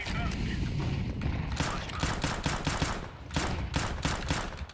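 Rapid gunfire and grenade blasts from a Counter-Strike match crackle in dense, continuous bursts, loud and close, with brief pauses between volleys and faint team callouts mixed in.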